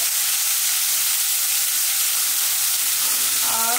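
Carrots and peas sautéing in a pan, a steady broadband sizzle running throughout, with a few brief clinks of stirring near the end.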